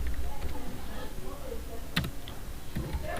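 A computer keyboard being typed on as a name is entered, with a short run of light, irregular clicks close by and a voice speaking at times.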